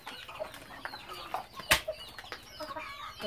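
Chickens, with young chicks and no mother hen, cluck and peep in short scattered calls around a quiet farmyard, with one sharp louder burst partway through and soft flapping.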